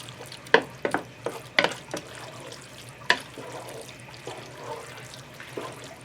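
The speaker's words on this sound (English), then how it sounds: "I want to stir that in." A spoon stirs taco seasoning into ground beef in a pan, making quiet scraping and clattering strokes in an irregular rhythm over a faint background hiss.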